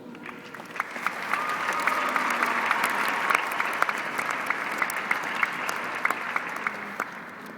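Steady applause from a graduation ceremony crowd welcomes a speaker, sustained and even throughout with scattered louder claps near the listener.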